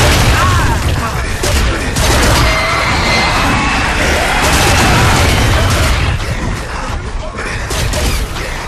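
A Berserker rampaging through enemies in Gears of War 3 Beast Mode, a loud, continuous wash of booms, crashes and smashing impacts with gunfire bursts, dense and close throughout.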